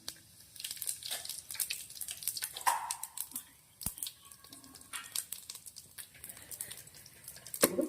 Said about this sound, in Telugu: ఆయిల్ కాగిందండి, ఆవాలు జీలకర్ర వేసుకుందాం.